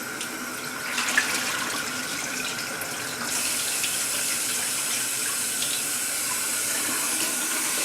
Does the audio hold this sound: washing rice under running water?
yes